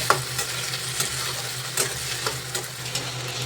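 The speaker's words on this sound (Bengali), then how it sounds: "এর সাথে দিয়ে দেবো এই আলু যে এগুলো ভেজে নেবো অল্প ওই এক থেকে দু মিনিট মতন ভেজে নেবো" Potatoes frying in a pan with green chillies, a close steady sizzle with regular scraping strokes of a spatula stirring them.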